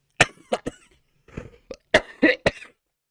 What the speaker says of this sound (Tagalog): Excuse me po may ubo pa tayo.